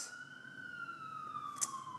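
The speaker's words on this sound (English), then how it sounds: "Like that siren, how it's awkward right now." An emergency vehicle siren wails steadily outside, a single slowly falling tone carrying faintly at a distance over low background noise, with a brief sharp click near the end.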